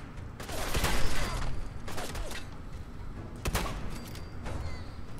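Gunfire rings out in Fallout 4, sharp cracking shots in a couple of loud clusters around the first and fourth seconds, set against a busy mechanical game backdrop with no voices.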